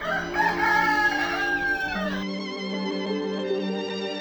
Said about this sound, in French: faisait écho au chant du coq de la ferme voisine